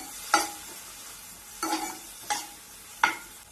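Ingredients for egg parotta being sautéed in a pan, heard as four sharp utensil scrapes and clanks against the pan spaced about a second apart, with only a faint background sizzle and no talking.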